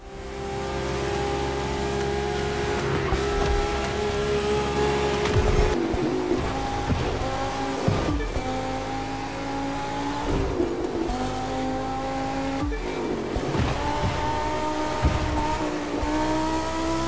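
Racing cars in a driving game: engines roar continuously and shift pitch through repeated gear changes and revving, with brief tyre squeals between, loud and close throughout with no talking.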